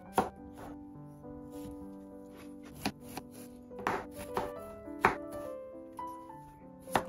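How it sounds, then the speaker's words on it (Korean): A knife julienning cucumber on a cutting board, with a handful of sharp, scattered chops over soft background music and no voices. "다음은 오이 채 썰기."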